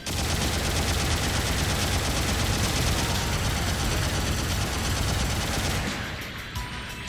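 Vulcan gun on the Gunblaster mobile suit firing in the video game Mobile Suit Gundam Battle Operation 2: a loud, unbroken rapid-fire stream of shots for about six seconds, then cutting off into quieter game sound.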